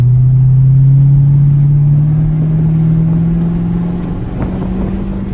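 A flood-damaged Corvette engine runs steadily, revving up toward about 3,000 RPM with a strong, continuous low drone that rises slightly in pitch and then holds, close and loud, with no talking.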